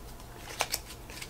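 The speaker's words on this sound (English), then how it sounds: "they're going to shuffle their scheme deck up" A deck of scheme cards for the board game Paladins of the West Kingdom is shuffled in a quick, close burst of papery riffling clicks against quiet room tone.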